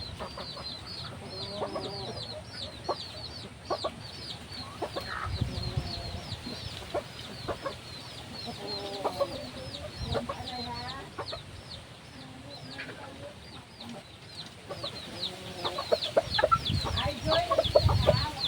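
Small wild jungle chickens (labuyo) cluck repeatedly up close, with bursts of chatter and occasional louder calls over a quiet rural background, growing busier toward the end.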